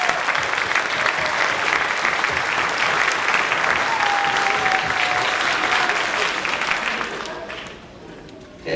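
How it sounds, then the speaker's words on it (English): An audience at a school spring concert applauds loudly and steadily for several seconds, then the clapping fades out near the end. "so big round of applause for all of those people."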